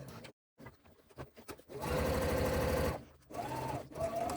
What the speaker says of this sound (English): Sewing through my facing piece also, and then back stitching at the top.